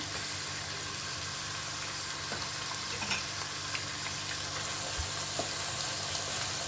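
Ginger garlic paste fries in hot oil in a pan for vegetable biryani, giving a steady, moderately quiet sizzle with faint scraping and bubbling, with no talk.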